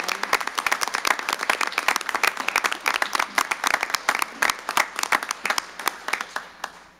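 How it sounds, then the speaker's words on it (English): Audience at a city council meeting applauding employees receiving years-of-service recognition, a steady round of clapping from a modest crowd that thins out and fades by the end. "Let's give these years of service recipients a warm round of, round of applause for their dedication and commitment."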